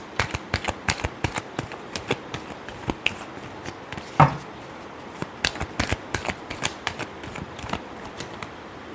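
Tarot cards are shuffled by hand in quick, crisp bursts of riffling and tapping, close and fairly quiet, with a short pause between shuffles and a sharper snap near the middle.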